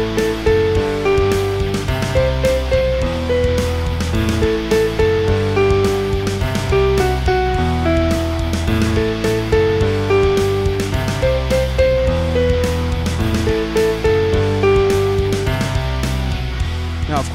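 Full, busy piano playing a section of a song: steady chords and a repeating melodic line with a strong, driving rhythm, loud and continuous with no talking.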